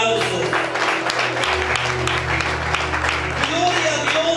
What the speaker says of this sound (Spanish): Bendición y milagros con fuertes aplausos.